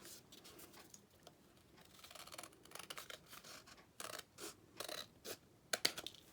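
Scissors snip through paper pieces for a garden-themed mini album craft: soft scraping cuts at first, then sharper, distinct snips toward the end, close and fairly quiet with no talking.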